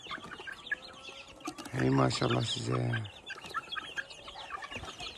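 Chickens and chicks cluck and chirp in a garden while a person speaks briefly over them, with soft farmyard bird calls continuing throughout.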